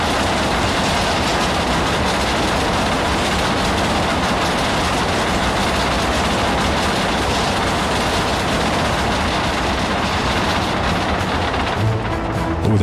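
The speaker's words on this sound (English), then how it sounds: "Train much louder than boat as well" A train rolls past in the game Workers & Resources: Soviet Republic, loud and close, a dense continuous roar with rapid clattering wheel noise that stays steady throughout and eases slightly near the end.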